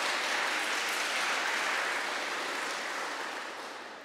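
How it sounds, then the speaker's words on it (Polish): Applause fills a school-year opening ceremony at a Polish high school, dense clapping from a crowd that holds strong and then gradually tapers off toward the end. "wielkie brawa dla pani profesor"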